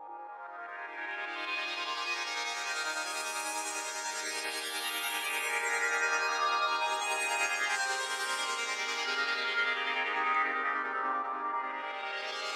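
Reversed, chopped JV-1080 synth sweep sample drenched in reverb, a continuous swelling wash of bright tones that rises and falls in two broad sweeps, played alone.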